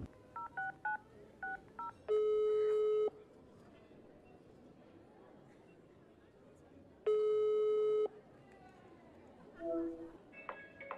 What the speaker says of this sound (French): Je vais appeler Laura et je reviens